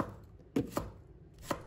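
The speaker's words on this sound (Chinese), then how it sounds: "然后把辣椒籽去掉，再切成长条， 然后切成小粒。" A knife chops chili peppers into small pieces on a cutting board, giving three crisp, close thuds at uneven intervals with no voice.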